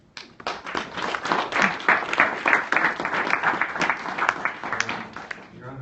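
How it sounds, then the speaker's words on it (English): An audience at a civic accelerator launch event gives a brief round of applause, dense clapping that swells quickly, holds for several seconds, then thins out, fairly close and alone without speech. "We have a brief round of applause for Kirk Roberts from Innovation Guelph"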